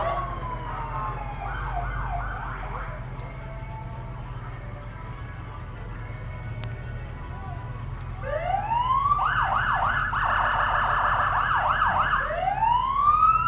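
Mohave County Sheriff vehicles in a Veterans Day parade in Lake Havasu City, Arizona, sound wailing, yelping sirens that grow louder and nearer toward the end, over a steady outdoor background.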